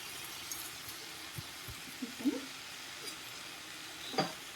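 Coriander mint chutney with salt stirred in a pan, faint soft scraping and squishy stirring strokes with a few small clinks against the pan, quiet and sparse over a low background hiss.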